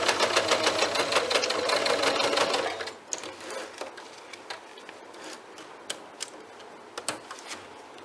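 A sewing machine runs at speed stitching a bag for about three seconds, then slows to irregular ticking stitches and clicks as it works more carefully.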